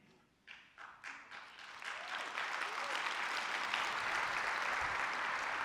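Audience applause at a keynote speech rises from a few scattered claps into a full, sustained roar of clapping that holds steady to the end.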